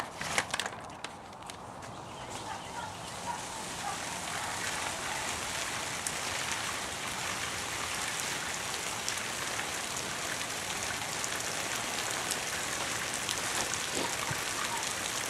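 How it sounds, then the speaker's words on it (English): Steady rain-like pattering and spraying of water on a DIY rain shell covering a trail camera, continuous and fairly loud, with no voices. "it's raining on it pretty good now"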